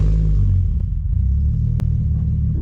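A Chrysler 300 with a swapped-in 2JZ engine and a turbo due for replacement idles and pulls away, a loud, close, deep rumble that stays steady throughout, with one short sharp click near the end.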